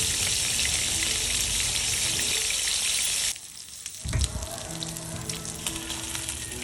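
Marinated milkfish (bangus) sizzles in a small amount of oil, a close, steady crackling hiss that briefly drops off then resumes with a sharper pop and spatter.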